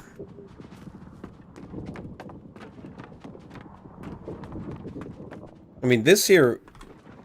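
Footsteps on dry wooden planks in the online game New World, a steady run of light hollow taps beneath someone talking, followed by a brief louder burst.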